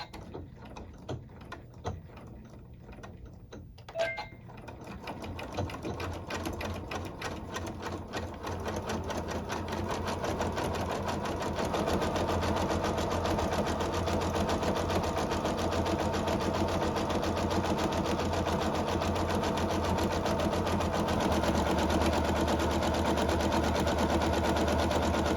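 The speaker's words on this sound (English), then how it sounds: "I'm going to slow my machine down a little bit, and I've got a nice zigzag stitch there." A sewing machine runs a zigzag stitch joining scraps of batting, slow, uneven whirring at first that settles into a steady, close, continuous mechanical hum.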